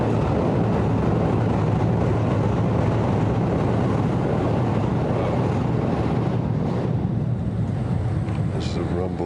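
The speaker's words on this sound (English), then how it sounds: "This is a rumble of another train." A low, continuous rumble of a passing train heard from a Tokyo riverside walk fills the scene, steady and broad, with wind noise on the microphone and no speech.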